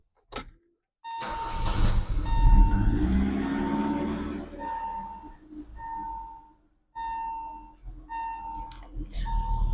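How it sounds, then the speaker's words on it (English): A BMW 318i engine runs steadily while its A/C compressor engages, producing a broad mechanical drone with brief drops and a recurring faint tonal chirp. "I don't know if you can hear that with the car running through my mic, but the compressor kicked on"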